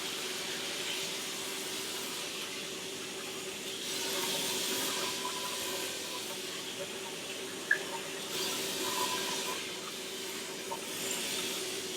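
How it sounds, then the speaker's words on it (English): Cold tap water runs steadily over cooked noodles in a colander, a continuous close hiss and splash that swells and eases slightly, with one brief clink partway through. "You want to rinse it off with some cold water."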